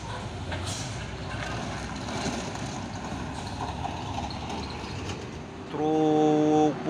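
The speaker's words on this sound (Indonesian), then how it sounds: "Truk Puso Victor ini ya, wes mantap bah" A Mitsubishi Fuso truck engine rumbles steadily nearby at a low, even level, then a loud horn-like harmonic blast rises over it near the end.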